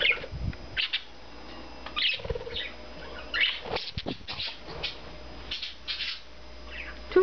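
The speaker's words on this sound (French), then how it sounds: "On entend les oiseaux ici, c'est les perruches." Parakeets in an aviary give scattered sharp chirps and squawks with some wing flutter, close by and moderately loud, over a faint steady background hum.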